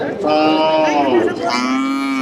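A thin, bony cow at a rural cattle market lets out a loud, close moo that rises and then falls, repeated as two long connected calls with no talk over them.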